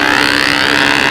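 Small glow-type model airplane engine of Tiger 60 size running at steady high revs, a continuous loud buzzing whine with no break, alone without talk.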